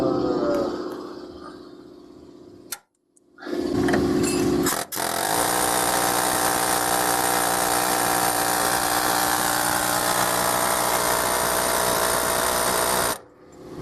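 Power tool cutting metal on a Dodge Dakota, a loud steady grinding whine that starts, stops briefly, then runs continuously for several seconds before cutting off, close by with no talk.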